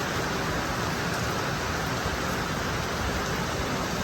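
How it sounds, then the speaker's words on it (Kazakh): Steady rain falling outdoors, a dense, even hiss of drops pattering on surfaces, continuous and close with no voices. "Ұқтатпайды қой бұл жаңбыр ұқтатпайды"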